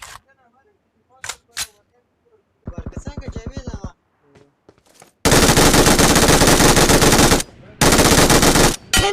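Loud automatic gunfire from the PUBG Mobile battle royale game on the Livik map: a few sharp single shots, then long sustained bursts with a brief gap, close and dominant.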